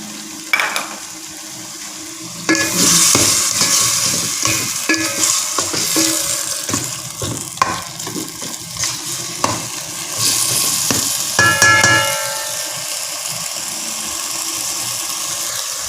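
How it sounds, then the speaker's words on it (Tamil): Chicken pieces sauté with salt in a hot pan for chicken soup, sizzling steadily throughout while a utensil stirs and scrapes in bursts, close and loud with no talking. "சிக்கன் கொஞ்சம் வதங்கணும். கொஞ்சம் உப்பு ஊற்றி சிக்கனுக்கு கொஞ்சம் போட்டுக்கிறேன்"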